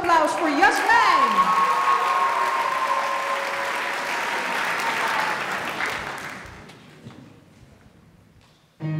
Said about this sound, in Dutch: Mag ik een heel groot applaus voor Jasmijn?